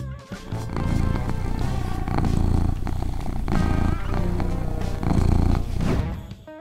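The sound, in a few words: cat purring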